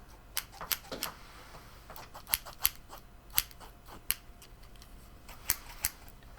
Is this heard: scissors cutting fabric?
yes